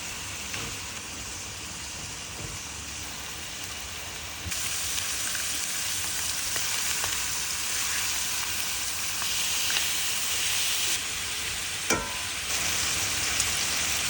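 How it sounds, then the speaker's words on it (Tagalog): Sliced pork steak sears in hot oil in a pan, giving a steady, bright crackling sizzle that grows louder partway through and continues evenly, with occasional small pops. "In a pan, mag-init ng konting mantika and sear the pork until lightly browned."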